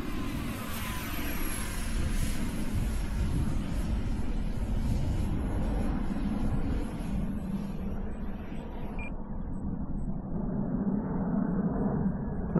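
A loud F-15 jet engine in a video game roars steadily, a continuous rushing whine that suddenly cuts its high hiss near the end while the rumble continues.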